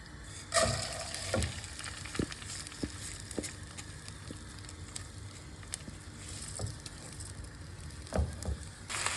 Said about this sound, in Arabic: اول ما السمنه تبدا تسيح هنزل بالرز بتاعي